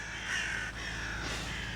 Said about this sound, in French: les oiseaux font du bruit